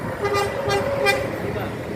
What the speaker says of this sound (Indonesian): kita dikasih klakson oleh Simamora